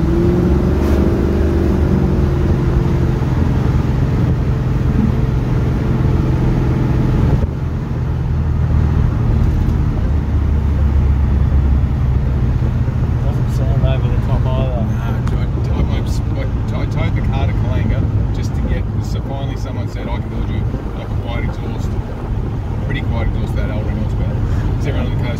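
Holden HQ Kingswood fitted with a small-block V8, driving along with a steady low engine drone and road noise throughout, while people talk over it.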